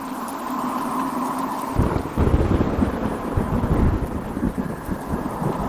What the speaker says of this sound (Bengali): ঝড়টা থেমেছে, কিন্তু মুষলধারে বৃষ্টি হয়ে চলেছে, সাথে মাঝে মাঝে বাজের শব্দ